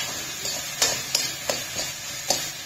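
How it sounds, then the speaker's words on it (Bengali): Tomatoes being stirred in a cooking pan for a vegetarian paneer dish, with five or six soft scraping clinks spaced irregularly over a low, steady background hiss. "এবার আমি এটাকে ভালো করে নেব নাড়িয়ে।"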